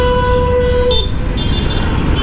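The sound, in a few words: motorcycle horn honking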